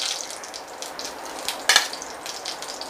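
Mustard seeds splutter in hot oil in a pan, a continuous close sizzle dotted with small pops and one sharper crackling burst midway, no voices.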